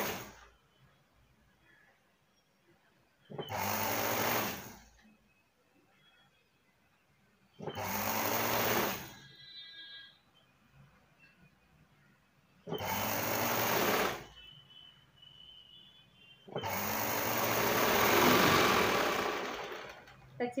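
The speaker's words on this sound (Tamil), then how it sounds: "இப்போ இதில் அப்படியே தொடர்ந்து கையை எடுக்காம நம்ம தச்சுக்கிட்டு வரோம்" A sewing machine stitches a blouse in four separate bursts of rapid mechanical whirring, each a few seconds long, with quiet pauses and occasional soft background speech between runs.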